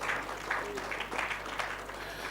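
Applause from a conference audience for Dr. Sipho Kabane, a steady wash of clapping at moderate level throughout, with no talk over it.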